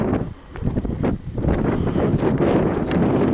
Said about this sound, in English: you can probably hear the wind's picked up a little